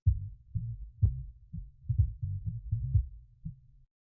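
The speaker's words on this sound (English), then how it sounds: "So in this next layer we have here is the bass" A low, filtered bass line layer from an electronic track plays alone, short punchy notes in a steady pulsing rhythm with accented hits about every half second, ending abruptly.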